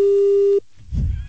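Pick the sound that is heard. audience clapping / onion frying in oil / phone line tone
phone line tone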